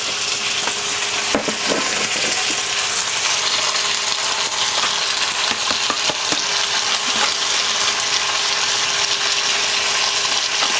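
Mee Hoon rice noodles stir-fried in a pan, giving a loud steady sizzle with rapid rattling scrapes and clacks of the utensil against the pan, clustered early and recurring throughout.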